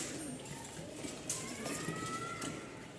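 Pigeons coo softly at a pigeon market in Mirpur-1, Dhaka, low and fairly faint, with a few short bird calls over a dull background murmur.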